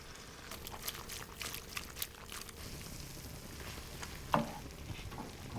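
Cream splashes into a hot frying pan of peas, prosciutto and onions, bringing a steady close sizzle and crackle with soft stirring and a brief louder pour near the end, with no talking.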